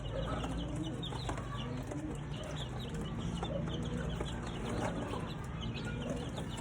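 Many small birds cheep and peep continuously, with soft clucking mixed in, over a constant low background hum.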